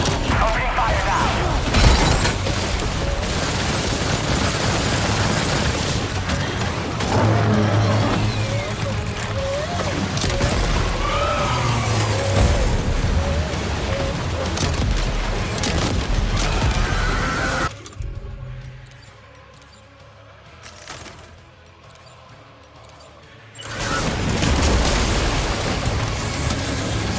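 Gunfire and explosive impacts crash in a Death Stranding 2 giant mech boss fight, loud and chaotic with voices mixed in, dropping to a quiet lull near the end before the barrage resumes.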